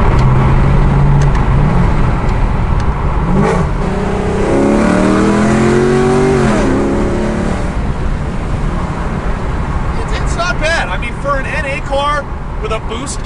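A supercharged car engine revs and pulls away, its pitch sweeping up and down through several gear changes, loud and close, with a steady road roar and what may be faint voices underneath.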